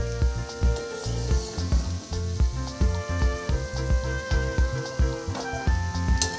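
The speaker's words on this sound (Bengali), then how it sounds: "এবার এটাকে একটু ভালো করে নেড়ে একটু ভেজে নেব।" Ingredients for a spicy masala Maggi noodle dish sizzle in hot oil in a pan while being stirred, a steady close fry with scraping movements over a rhythmic musical background.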